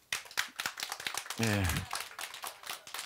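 A congregation clapping during a Korean church Sunday service, a brisk run of close hand claps with a speaking voice over it.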